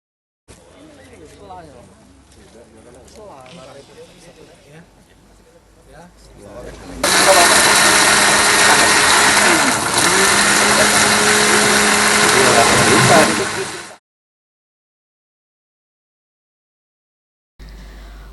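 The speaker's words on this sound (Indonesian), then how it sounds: "dihancurkan dengan mesin blender" A blender machine grinds seized methamphetamine mixed with floor-cleaning liquid. It starts after several seconds of quiet talk and roars loud and steady for about seven seconds, then cuts off abruptly.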